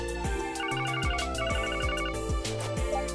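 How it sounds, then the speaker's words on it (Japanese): A portable communication terminal rings in the Trails from Zero video game, a repeating electronic ringtone melody over low pulsing background music, with no voices. "携帯用の通信端末。 そんなものまで実用化されているのか。"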